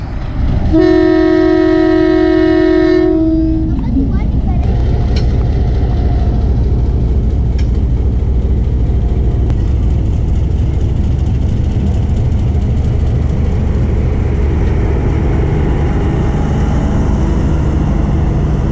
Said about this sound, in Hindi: कराची जाने के लिए 12 डाउन नज़ारा एक्सप्रेस तैयार खड़ी है।